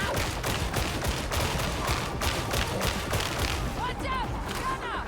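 Lasgun fire in Warhammer 40,000: Darktide, a rapid string of sharp shots in quick succession over a steady din of combat, with brief whistling tones near the end.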